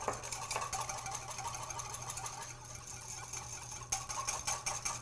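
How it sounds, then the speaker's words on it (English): Olive oil whisked vigorously into a vinaigrette, a dense steady scraping and rattling that runs continuously at moderate level, with a low hum beneath and a brief louder patch of strokes near the end. "as we add our olive oil, we're going to whisk the other ingredients"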